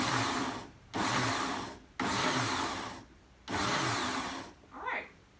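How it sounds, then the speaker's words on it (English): A blender pulses raw vegetables, lemon juice and water for gazpacho in three loud bursts of motor whir separated by brief silences, followed by a shorter, softer final pulse. "let's blend this again"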